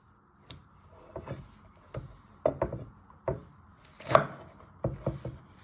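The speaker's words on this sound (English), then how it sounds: "Carefully chop down the middle." A knife chops down through a tomato on a cutting board for prawn and tomato spaghetti, giving about a dozen crisp, close thuds in an uneven rhythm with short pauses, and no one talking.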